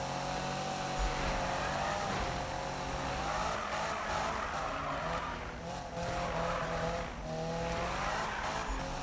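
Racing game car drifting through a drift trial event, engine whine wavering steadily with continuous tire squeal and skidding noise throughout, loud and close, with no talking.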